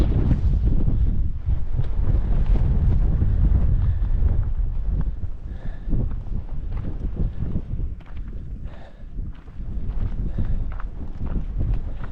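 Strong, cold gusts on an Appalachian Trail hilltop buffet the microphone in a continuous low roar that rises and falls, with faint rustling beneath.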